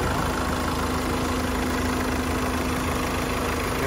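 The 2.2-liter CRDI diesel in a 2019 Hyundai Santa Fe idles in a continuous, even clatter with a steady hum, close and moderately loud, with no talk over it.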